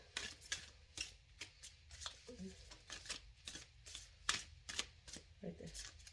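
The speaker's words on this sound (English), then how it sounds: "I'm just trying to get a better handle on your cards" Animal Spirit Oracle cards are shuffled in soft, repeated riffling bursts up close, with a faint voice murmuring in the background.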